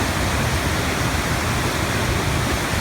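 Steady, dense roar of ocean waves and churning water at Devil's Hole, a deep hole in the water, loud and continuous with no talk.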